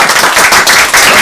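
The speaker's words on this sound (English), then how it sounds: "I should say as well, clapping, there's an audience here as well." An audience claps together for a guest at a football club marketing talk, loud, close and continuous applause with slight rhythmic swells, no voices.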